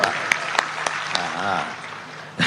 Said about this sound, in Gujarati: હું તમારી માટે હું તાળી પાડું છું.